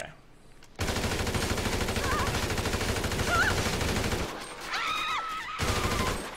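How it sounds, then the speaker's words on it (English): Rapid gunfire in Grand Theft Auto V, a dense burst of repeated shots over game sound and music for several seconds, then a short break and a further burst, loud and close. "I think I have to shoot him."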